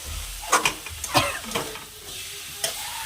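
Meat fries in a pan while being stirred, giving a soft continuous sizzle broken by several scraping, clattering stir strokes, close and fairly quiet, with no talk.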